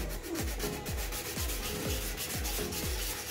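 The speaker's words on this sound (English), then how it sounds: "I'm just going in with some like 220 grit sandpaper" A helmet for a Captain Rex Phase 2 armor build is hand-sanded with 220 grit sandpaper in quick, regular back-and-forth strokes, roughly three per second, producing a soft, close scratching rub with no speech.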